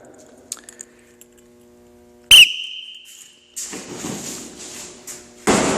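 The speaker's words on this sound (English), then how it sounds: "When I blow the whistle." A whistle is blown to start a wrestling drill, a sharp, loud blast that holds for about a second, followed by rustling and thumping movement in the room.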